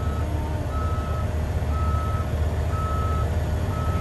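Reversing beeps from a backing bus, four evenly spaced tones over a loud, constant engine rumble and idle, with no voices.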